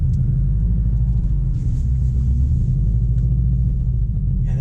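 A 2018 Subaru STI's engine and exhaust drone steadily while it is being driven, with a deep continuous rumble heard loud from inside the cabin and no talking.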